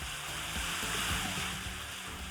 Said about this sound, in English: Now I fill a couple of gallons of water in here and stir it around.